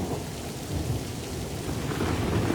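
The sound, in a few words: rain with thunder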